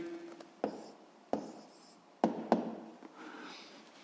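A pen writes an answer by hand on paper during a physics homework exercise, giving soft scratching strokes broken by several sharp taps on the desk, close and quiet.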